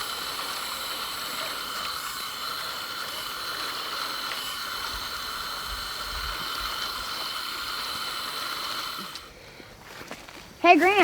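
Hose water rinses freshly harvested carrots, a steady close hiss of spraying water that runs for most of the stretch, then cuts off and falls quieter near the end.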